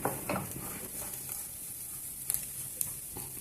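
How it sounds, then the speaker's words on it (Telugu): Potatoes fry in a pan with a soft steady sizzle, broken by a few brief scraping stirs and light clinks of utensil on metal, close and fairly quiet with no talk. "ఇంకా కొద్దిసేపు వేయించుకున్నాము"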